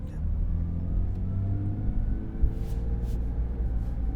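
A Porsche 992 GT3 with a manual gearbox idles and runs steadily, a continuous low rumbling engine note that stays close and even for the whole stretch.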